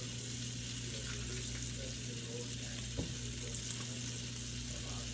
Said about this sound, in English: I'm going to add another piece of butter